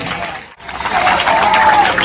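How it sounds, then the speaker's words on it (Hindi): Audience applause at a public speech event with MP Iqra Hasan in Kairana, Uttar Pradesh: a short pause, then a steady, dense wash of clapping that holds to the end, with a thin tonal whine running faintly through it. "मेरी तरफ से आप एक बार इनके लिए तालियां बजा दें।"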